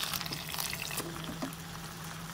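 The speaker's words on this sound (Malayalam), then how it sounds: "ഏകദേശം 10-15 മിനിറ്റ് നമുക്ക് ഒരു സൈഡ് ഫ്രൈ ചെയ്തെടുക്കാം." Pomfret fish frying in a pan hisses and sizzles steadily from close by, with a few brief crackles over the dense wash of noise.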